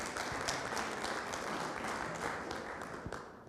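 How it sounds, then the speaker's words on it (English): Continuous applause from a seated audience at a community Safe Streets meeting, many hands clapping in a dense, even wash that holds steady at moderate distance. "Applause, please"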